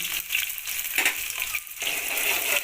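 Chopped onions sizzle in hot oil in a pan while being cooked for Maggi masala khichdi rice, a steady close hiss with a few soft scraping stirs, no talking.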